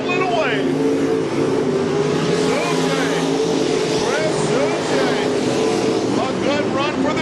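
Pure stock and sportsman cars race in a dirt track heat at I-55 Raceway, their engines roaring loud and continuous with sweeping pitch rises as cars pass, under an announcer's steady commentary.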